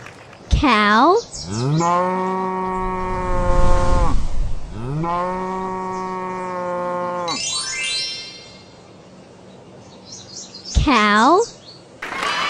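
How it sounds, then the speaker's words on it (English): Cow mooing in a children's animal-sounds lesson: two long, loud moos, each lasting several seconds, separated by a short gap, with brief higher-pitched calls at the start and end. "cow,"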